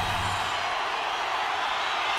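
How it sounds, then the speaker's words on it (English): A hockey arena crowd at an NHL Stanley Cup playoff game roars steadily during a tie game late in a period, a dense, continuous wash of cheering noise without breaks. "you can feel the energy in this crowd"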